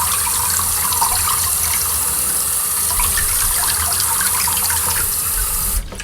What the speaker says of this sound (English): I just want to turn on the water and just get some splashes of water on here